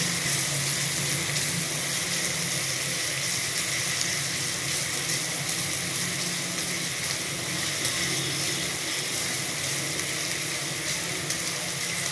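Chopped ginger browning with onions and eggs in a hot pan, a steady, even sizzle of frying that holds without break, close and moderately loud with no talking.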